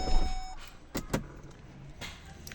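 A car sunroof closes: a brief electric motor whir followed by a couple of soft clunks and a short later whir, close by and quiet, with no voices.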